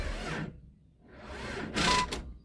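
A Jeep with a new but bad Walmart battery failing to start, giving rapid mechanical clicking and chattering bursts separated by a short pause, with a sharper, louder burst near the end.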